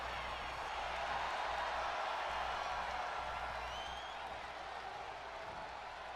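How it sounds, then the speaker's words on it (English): A distant arena crowd in a wrestling video game roars and applauds in a steady, sustained wash of cheering. "Lava Cuesta has got this crowd riled up"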